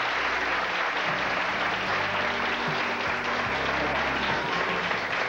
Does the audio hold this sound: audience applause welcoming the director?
yes